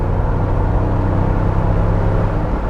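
A used Ford Bronco accelerating, its engine giving a steady, loud low rumble with droning harmonics that holds evenly throughout, close by and with no voices.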